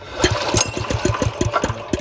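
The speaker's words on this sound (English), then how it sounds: "we're going to turn the engine over and see if there's spark" The engine of a Coyote Bullet kart turns over with a steady, rapid chugging rhythm of even pulses, close and loud, with no voices.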